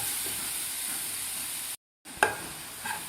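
Jaggery filling for Maharashtrian patoli being sautéed and stirred in a pan, a steady soft sizzle with scraping stir strokes, broken by a brief silent gap before the stirring clicks resume.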